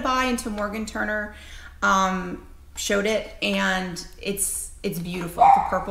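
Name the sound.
dog barking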